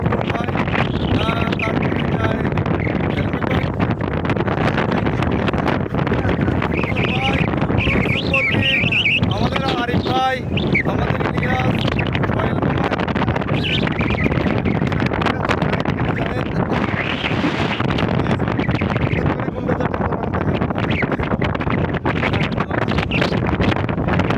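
Strong wind sweeps over flood waters and buffets the microphone in a loud, continuous roar, while voices talk through it.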